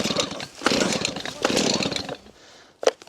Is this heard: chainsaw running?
yes